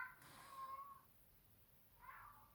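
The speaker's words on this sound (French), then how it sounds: "le chat que vous entendez est le mien, qui est juste dehors là devant la fenêtre" A cat meows twice just outside a window, muffled and somewhat distant, with a quiet pause between the calls.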